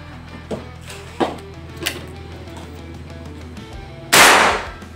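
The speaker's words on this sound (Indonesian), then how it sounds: "Kita langsung saja ke tembakan yang pertama." A single sharp, loud crack from a compact PCP air rifle on its first test shot, close by, preceded by a few quieter clicks and handling knocks.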